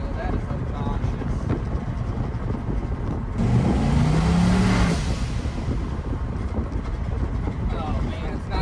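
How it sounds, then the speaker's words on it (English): A 1951 Dodge Pilothouse truck with a turbocharged LS engine swap runs loud and close, its steady engine drone rising briefly in a surge with a whooshing, whistling turbo boost noise before settling back. "Oh man, it's nice to have boost noises in my life again."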